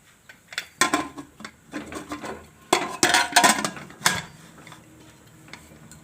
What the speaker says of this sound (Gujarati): હવે આપણે એનું ઢાંકણું બંધ કરી દઈશું કુકરનું.